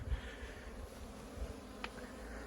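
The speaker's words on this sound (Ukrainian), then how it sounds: "бджілки сьогодні просто бомбезно. Літають" Honey bees fly around hives on a spring day, a steady low droning buzz with a brief louder pass of a single insect near the microphone.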